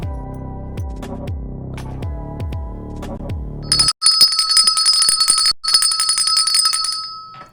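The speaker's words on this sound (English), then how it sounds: "An extra bell." A bell rings out in repeated decaying strikes, then gives way to a bright, rapid high-pitched jingling ring that continues with a brief break before fading.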